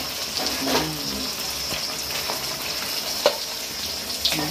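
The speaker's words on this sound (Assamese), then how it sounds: "এইফালে মাই পটল ভাজি আছে" Pointed gourd sizzles in a frying pan in a home kitchen, a soft steady crackle of oil with occasional clinks and stirring sounds, no voices.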